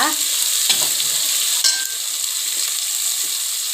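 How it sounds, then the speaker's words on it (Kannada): Chopped onions sizzle loudly in hot oil while being stirred as tempering for chicken biryani, a dense, steady frying hiss with a few sharp crackles and no voices. "ನಾನು ಈರುಳ್ಳಿ ಎಲ್ಲ ಎರಡು ಸಲ ಒಗ್ಗರಣೆ ಹಾಕೋದು"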